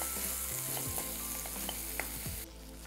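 Chopped onion sautéing in a pan with spices, a steady close sizzle broken by light stirring clicks and scrapes, quieter toward the end.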